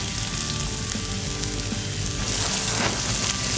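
Cumin seeds crackle and sizzle in hot oil as a tempering for Hyderabadi egg khagina, a loud, dense frying hiss that continues without a break and has small pops scattered through it.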